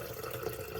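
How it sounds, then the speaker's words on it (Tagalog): Water runs steadily for under a second into a water cooker, a continuous liquid splash like pouring or filling from a tap, close and fairly quiet. "Ayan, lagyan natin ng tubig."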